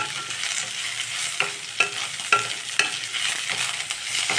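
Mint leaves stirred and sautéed with onions in a pan for tomato rice: a constant close sizzle broken by a few sharp scraping stirs of a spoon, with no voices.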